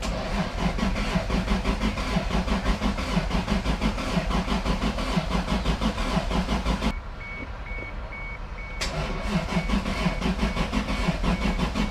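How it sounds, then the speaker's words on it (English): A Toyota Supra with new turbo fixes cranking slowly on a low battery, a loud, even, labored starter rhythm that stops briefly for a couple of seconds, then resumes without firing. "Does it normally crank faster? Way faster."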